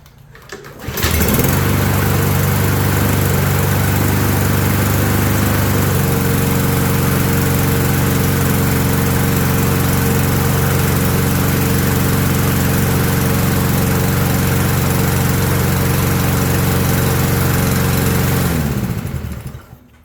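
A small engine runs steadily at a loud, even idle, its pitch shifting slightly a few seconds in, then cuts out abruptly when the carburetor air is choked off, leaving near silence.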